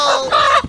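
A stolen rooster inside a box gives a short burst of loud, close clucking, two quick squawking calls under a second long.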